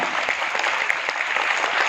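Loud, dense applause from an audience fills a short burst, a continuous bright rattle of many hands clapping with no break.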